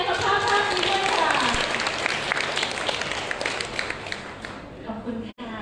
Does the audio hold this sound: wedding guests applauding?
yes